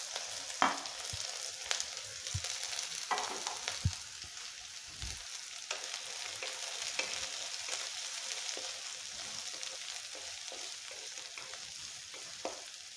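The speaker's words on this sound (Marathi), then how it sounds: "तेल गरम झालेलं आहे, यामध्ये टाकूया थोडीशी जिरे, थोडीशी मोहरी, थोडासा कांदा टाकूया।" Cumin, mustard seeds and onion fry in hot oil with a soft, steady sizzle, broken by occasional light stirring taps and scrapes.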